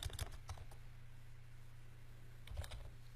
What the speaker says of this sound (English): I always usually start by typing the broad interest.